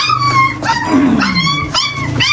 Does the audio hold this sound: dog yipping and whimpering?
yes